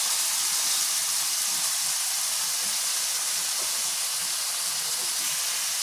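Water poured over stuffed brinjal fry in a hot pan produces a loud, steady hissing rush of steam that continues evenly, close up and without pause.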